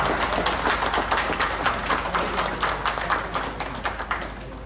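Applause for the champions at an international championship event held by Xift Academy and Research: dense, steady clapping from a crowd filling the whole clip, close and fairly loud, with no talk.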